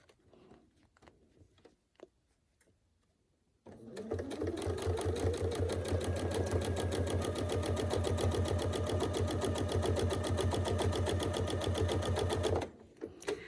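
After a few quiet handling taps, a sewing machine starts free-motion quilting a triangle-splash quilt, running steadily and loudly up close with rapid rhythmic needle pulses for about nine seconds before halting.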